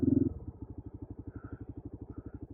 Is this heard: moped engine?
yes